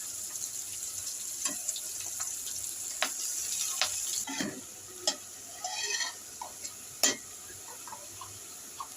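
Pumpkin cooking with shrimp, onion, green chili and ginger-garlic paste in a pan, a steady low sizzle with intermittent sharp clinks and scrapes of a utensil stirring.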